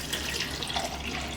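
Lukewarm water, about half a glass, pours into a mixer jar while giloy-amla juice is being made, a steady close splashing trickle with no talk.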